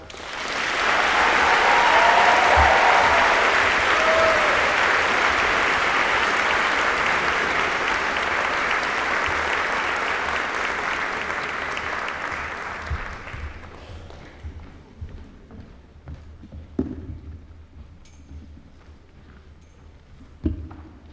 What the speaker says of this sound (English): Please join me in a warm round of applause for Mrs. Colleen Dorico